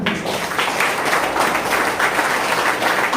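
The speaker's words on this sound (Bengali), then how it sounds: "সবার জন্য একটা জোরদার হাততালি" An audience claps together in a steady, dense round of applause, loud and close throughout, with no voices rising above the clapping.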